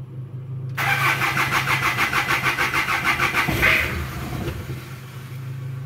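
A Hyundai Galloper diesel engine cranks with a steady rhythmic churn, catches briefly and then stalls, dying away into a low hum; close and loud, with no talking.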